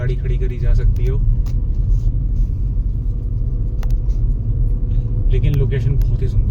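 A car drives along a hill road in the Morni Hills, with a steady low engine and road rumble heard close from inside the cabin while someone talks over it.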